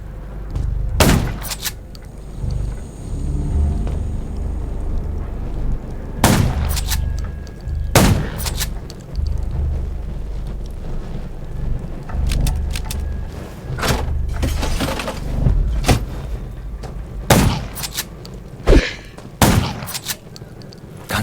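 Repeated sharp gunshots fired at zombies in the Undawn mobile shooter game, loud close bursts scattered irregularly across the stretch, some in quick clusters, over a low rumbling ambient background with no talk.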